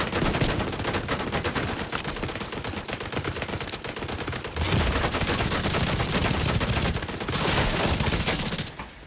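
Rapid automatic gunfire in The Division 2 video game crackles loudly and nearly without pause, long bursts broken by brief gaps, with no talk over it.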